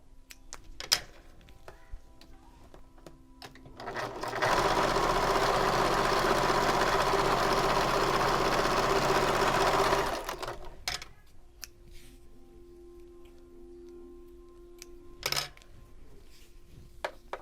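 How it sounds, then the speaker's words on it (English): A sewing machine runs in one steady, loud burst of about six seconds, stitching both sides of a handle for an Odyssey convertible bag. Before and after the burst come quieter clicks and handling noises. "To stitch both sides of the handle."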